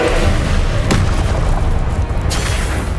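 An Incendio fire spell is cast in Hogwarts Legacy on PS5: a loud, dense roaring blast with sharp booming thumps, sustained close-up for a few seconds.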